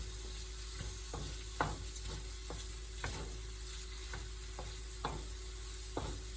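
Sac kavurma meat frying with onions on a sac pan sizzles steadily, with sharp spatula scrapes and stirring clicks roughly every second.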